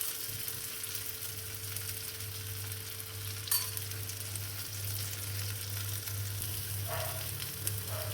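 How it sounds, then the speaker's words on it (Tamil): Thanjavur-style crispy adai sizzles in a pan with oil poured into a hole in its centre, a steady close frying hiss with a low background hum and a few faint scrapes, and nobody talking. "நடுப்புற கொஞ்சம் ஹோல் போட்டு எண்ணெய் ஊற்றிட்டா கொஞ்சம் சீக்கிரம் வேகும்."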